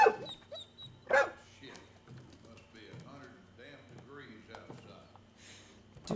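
A dog in Wolfenstein II: The New Colossus gives short yips and whimpers amid game dialogue, with a sharp bark-like burst early and soft whines scattered under the talking.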